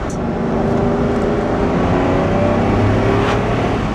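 A sports car engine roars continuously at high revs past 4000 rpm, a loud steady drone with rising pitch and no talking.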